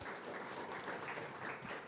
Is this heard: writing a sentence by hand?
no